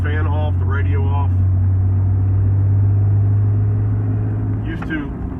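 Cab of a truck with a G56 manual transmission driving with fan and radio off, giving a steady, low, quiet engine and drivetrain drone throughout while someone talks over it at the start and again near the end.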